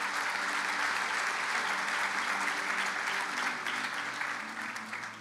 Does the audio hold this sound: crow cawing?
no